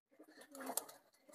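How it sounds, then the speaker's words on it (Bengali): A pet pigeon, a Chila Porbon breed kept at home, gives a short soft coo, close and faint, a single rolling murmur in an otherwise quiet space. "পায়রাটা হচ্ছে একটা চিলা পর্বন পায়রা"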